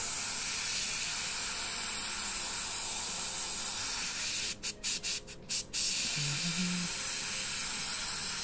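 Airbrush spraying paint onto cornhole bags, a loud continuous hiss that breaks into several quick on-off bursts near the end before resuming steadily.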